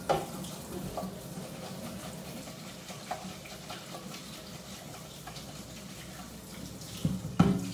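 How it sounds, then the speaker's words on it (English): Cold tap water runs over cooked, thin-stemmed asparagus in a kitchen sink. A soft, steady stream flows continuously, with a small clatter near the end. "I'm gonna run some cold water over the asparagus so it kind of stops cooking a little"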